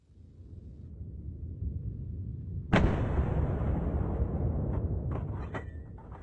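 A single sharp gunshot cracks out during a wild boar hunt, sudden and loud over a low outdoor rumble, followed by a lingering roar and a few faint ticks.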